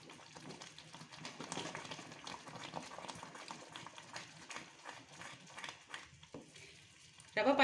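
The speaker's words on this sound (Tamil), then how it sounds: "இது நல்லா கொதி வருது பாருங்கள்." Rava payasam made with milk bubbles at a steady boil in a pot, a soft, faint, continuous simmering with irregular small pops and a louder clatter at the very end.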